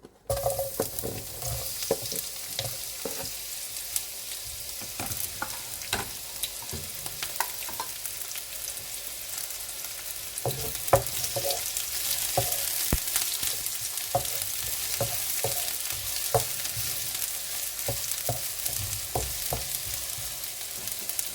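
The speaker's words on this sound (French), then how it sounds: "Un tout petit peu d'huile d'olive. Et on va mettre notre oignon." Onion fries in a little olive oil in a pan, a continuous soft sizzle with frequent scraping utensil knocks as it is stirred, close and moderately quiet, with no talking.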